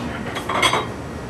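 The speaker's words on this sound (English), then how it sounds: "Now we're going to spoon that into a bowl" A spoon scrapes and clinks against dishware as truffled macaroni and cheese is served into a bowl, a brief, close, soft clatter.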